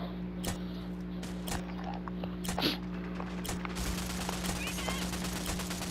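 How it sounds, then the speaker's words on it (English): Gunfire from the shooter game Rogue Company crackles as scattered single shots and short bursts over a constant low hum, fairly close and moderately loud, with mechanical clicks mixed in. "I don't need everybody shooting at me"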